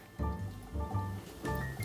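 Water is poured from a kettle over coffee grounds in a Steadfast pour-over brewer, making soft close-up gurgling and dribbling pulses in a few short bursts.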